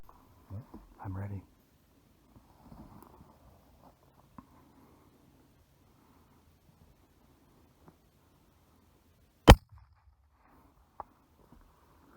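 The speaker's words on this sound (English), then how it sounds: "Perfect shot." A single sharp, loud rifle shot fired at an elk from about 400 yards on a Wyoming hunt, cracking out alone after quiet, with soft rustling and brief talk earlier.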